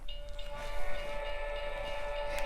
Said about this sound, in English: you can hear a realistic sound of a train